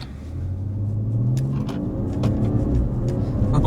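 Tuned BMW G30 540i on an MHD Stage 1 tune, in Sport Plus mode, accelerating hard; its smooth engine note rises and swells as it builds, heard from inside the car with a few sharp clicks.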